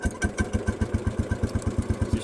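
Engine of a 1971 Cub Cadet 106 tractor idling just after a cold start, a close, fast, even chugging pulse with regular firing beats and no speech.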